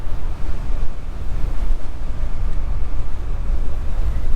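Heavy wind rushing past a ZOOZ UU1100 electric bike cruising straight into a headwind, a loud, steady low buffeting roar that fills the whole stretch without any voices.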